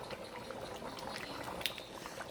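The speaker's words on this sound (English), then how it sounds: "So just put your soup on a higher level now and just keep boiling it" Liberian palm butter soup boils in a pot on high heat, a steady, moderately faint bubbling and popping simmer with no talk.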